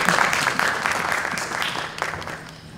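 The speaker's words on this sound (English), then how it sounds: "Please assist them with a round of applause." An audience claps at a university higher-education event, a steady close wash of applause with some individual claps standing out, gradually tapering toward the end.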